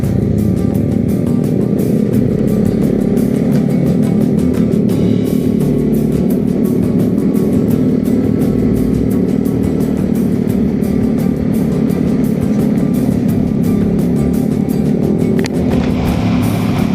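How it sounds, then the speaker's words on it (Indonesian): A group of eight motorcycles riding together through city streets, a steady loud engine drone with continuous rumble throughout and no talking. "Kita ada 8 motor hari ini."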